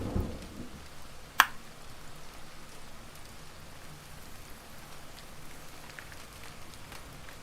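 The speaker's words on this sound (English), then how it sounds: "The rain continues to pour around me." Steady rain pours softly in the background, a faint even hiss, broken early by a single sharp crack and a low rumble at the start.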